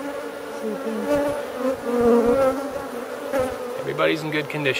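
Dense swarm of honeybees from a large five-year-old wild colony buzzing loudly and continuously during a hive relocation, a droning insect hum close to the mic, with a few voices talking briefly near the end.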